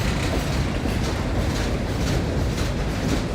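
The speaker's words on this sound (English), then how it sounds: "Looks like a ballast train" A ballast train passes through a railway tunnel, its steady broadband rumble and wheel clatter filling the space continuously and loudly from start to finish.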